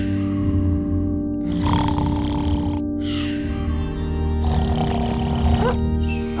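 A woman snoring in her sleep, with repeated rasping, noisy breaths in a slow rhythm, loud and close over a steady low hum.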